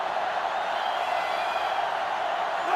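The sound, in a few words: stadium crowd roaring in the video game NCAA Football 2005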